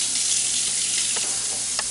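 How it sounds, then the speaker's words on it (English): Water runs steadily from a kitchen faucet while it is left on until it turns hot, giving a constant, close, even hiss with no speech. "I just let my faucet water run until it's hot"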